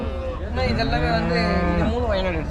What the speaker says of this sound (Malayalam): ഒരു മീഡിയം സൈസിൽ വരുന്ന കന്നി പശുക്കളാണ്.